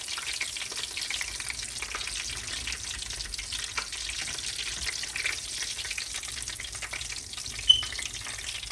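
Doritos-coated chicken tenders frying in hot oil, a steady dense crackle and hiss running unbroken at moderate level with one brief louder pop near the end.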